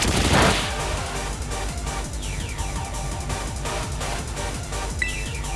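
Pin Missile attack from Jolteon in Pokemon Violet, a rapid volley of sharp, dense impacts and whooshes that rattle on for several seconds after a loud opening burst, steady and close.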